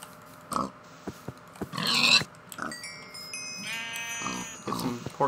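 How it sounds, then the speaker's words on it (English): Pigs grunting in a Minecraft-style video game, several short snorts and squeals scattered across the stretch against game background sounds and chiming tones, moderately close, with no talking. "I saw some pigs over here."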